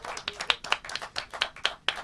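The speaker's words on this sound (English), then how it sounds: "on va applaudir à nouveau Claude" An audience claps at a live music event, with sharp, evenly spaced claps in a steady rhythm that sound close and fairly loud, and no talk.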